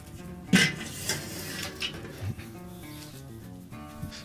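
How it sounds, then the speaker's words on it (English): A kettle charcoal grill's metal lid being lifted open, giving a single near clatter and scrape of metal at the start, followed by quieter rattling and handling sounds over faint outdoor background. "So let's open up the grill and begin to prepare for our reverse sear."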